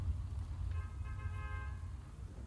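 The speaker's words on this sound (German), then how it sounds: "Jetzt hupt er hier einfach rum, ey." A vehicle horn toots once in the Bau-Simulator road-construction game, a short, mid-loud honk lasting about a second over a steady low engine rumble.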